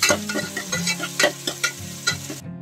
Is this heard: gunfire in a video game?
no